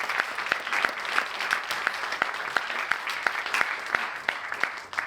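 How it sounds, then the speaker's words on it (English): Festival talk audience gives a round of applause, a moderate, fairly sparse crowd clapping with a few sharp, distinct claps standing out in a steady rhythm, no voices over it. "let's give him a round of applause before he gets up"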